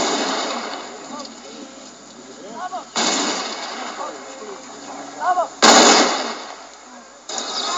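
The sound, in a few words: rifle volley fired by IRA riflemen at funeral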